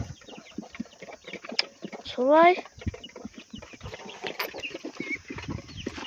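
Chickens and roosters on a farmyard cluck and call nearby, with one loud crowing burst midway, while someone talks over the birds.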